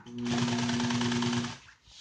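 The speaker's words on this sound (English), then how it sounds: "we'll start sewing all the way around" An industrial sewing machine stitches automotive seat upholstery in a rapid, loud, steady mechanical run of about one and a half seconds, then stops abruptly into quiet.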